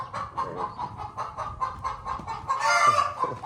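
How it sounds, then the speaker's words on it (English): Backyard hens clucking steadily in a morning yard, a run of repeated nearby clucks building to a louder burst of squawking near the end, with no talk. "Chickens!"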